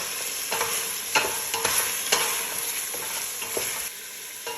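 Meat and a spoonful of tomato paste are stirred in a hot pan under a steady sizzle, with regular utensil scrapes and taps against the pan. No voices are heard.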